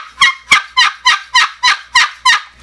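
A turkey hunting call imitates a turkey with a run of eight loud, sharp yelps, evenly spaced and close, heard alone.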